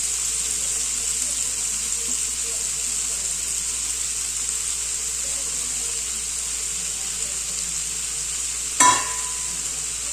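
Mushrooms and paneer cook together in a single pot for kuskha rice, giving off a steady, soft sizzle and hiss. Near the end a single sharp clink cuts through, and no voice is heard.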